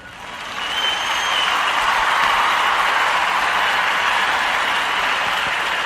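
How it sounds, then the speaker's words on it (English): Steady, loud audience applause for Larry on the VBPT Cam and Larry Show, swelling in the first second and then holding as dense, continuous clapping through the whole stretch, with no talk over it. "let's give a big round of applause to Larry, who will be right back soon"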